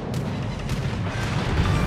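Heavy naval guns of the battleship Vanguard boom repeatedly in World of Warships Legends, loud rumbling blasts rolling into one another against continuous battle noise.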